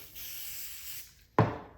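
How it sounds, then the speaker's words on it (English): A short, soft hiss of liquid sprayed onto the end grain of wood glued with CA glue, followed by a sharp, louder burst of spray close by. "we're gonna actually do the end grain, which is a little bit harder to do because the glue soaks it all up. And what we're gonna do is we're just gonna spray this"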